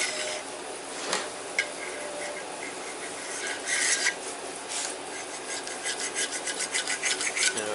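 A flat screwdriver wrapped in a rag scrapes and rubs inside a groove on a power divider at a workbench, producing soft, irregular rasping strokes that quicken toward the end; no talk.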